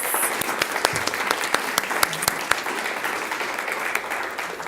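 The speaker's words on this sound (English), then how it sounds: "Can we give them a big round of applause?" Audience applause for two Liberty High School students at a Peoria Unified governing board meeting, a moderate steady patter of many hands with some sharper individual claps standing out.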